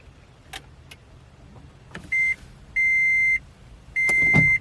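A 2015 Toyota Prius hybrid powering on: a few soft clicks, then three steady electronic tones, each held about half a second, with a brief thump near the end.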